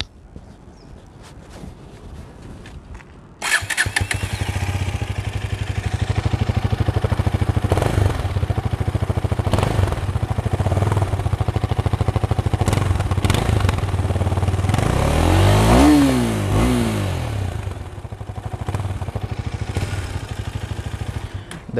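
A motorcycle engine with its exhaust fitted, held in neutral, idles with a steady low throb and is revved up and back down several times. It is loud and close, with a brief mechanical clatter.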